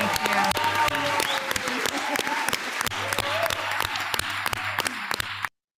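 An audience at a political event applauds candidates with steady, dense clapping from a large crowd throughout, loud and continuous, with voices mixed faintly underneath before it cuts off abruptly.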